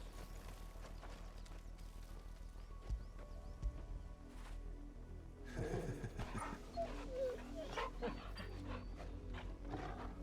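A dog in the video game Final Fantasy 16 pants softly against quiet game ambience, with some hoof-like footsteps and a busier stretch of movement noise in the second half.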